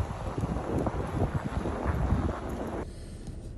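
Gusty wind in snow at about -23 degrees roars and buffets the microphone in a steady rumble, then drops off abruptly near the end.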